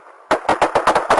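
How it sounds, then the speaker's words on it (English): During a police traffic stop, a rapid string of about six sharp gunshots cracks out in quick succession, loud and close, following a brief quiet moment. "Shot fired."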